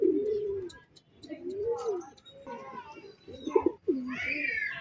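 Pigeons coo and flutter as they return to a home loft in the Philippines, soft repeated coos and chirps mixed with someone talking over them, close and moderately loud.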